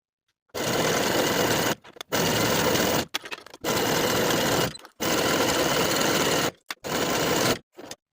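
A sewing machine stitches a crotch seam on jersey loungewear pants in five or six loud, close bursts of fast steady whirring, separated by short pauses.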